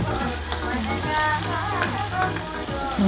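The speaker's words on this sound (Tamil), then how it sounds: "இப்போ இதை வந்து டீப் ஃப்ரை பண்ணி எடுக்கணும்" Mushroom Manchurian pieces deep frying in hot oil give a steady, close sizzle with dense crackling and popping, continuous throughout.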